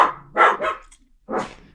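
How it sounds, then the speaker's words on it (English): A pet dog named Ollie barks indoors in a few loud, close bursts, joining a chorus of other dogs barking outside, with short pauses between volleys. "he's hearing other dogs bark, and so he's joining in"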